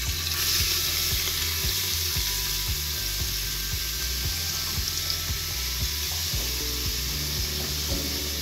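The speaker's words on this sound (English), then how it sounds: "Let it fry for just 1 minute so the aroma can be released in the oil" Finely chopped large onion sizzling steadily in hot oil for a mutton curry, a loud continuous crackling fry with a rhythmic low scraping pulse from stirring throughout, no voices.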